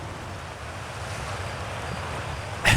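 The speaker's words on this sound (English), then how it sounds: "The water is so loud, but I guess huge amounts of running water is loud" Loud running water in the game Outer Wilds, a steady broadband rushing roar like surf or a torrent that continues unbroken, growing slightly louder before a sharp burst at the very end.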